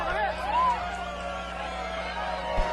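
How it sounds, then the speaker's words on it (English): Crowd noise at a boxing match during a referee's timeout, a sustained broad murmur of displeasure from the arena audience with voices calling out over it and one low thump near the end. "The crowd seems to be booing."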